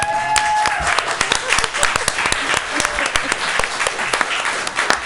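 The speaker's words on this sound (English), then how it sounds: "Let's clap." At a city council meeting in Emeryville, California, the room breaks into scattered applause, individual claps standing out within a moderate, uneven patter, with some voices heard near the start.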